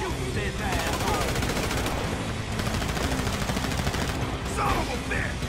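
Rapid automatic gunfire from a shootout in the video game GTA V, loud and continuous bursts filling the whole stretch, with no talk over it.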